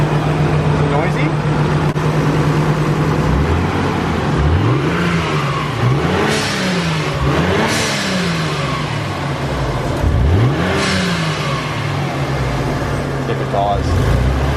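Nissan 300ZX twin turbo engine idling unevenly with a suspected vacuum leak, close by, with several quick revs rising and falling over the idle while people talk nearby.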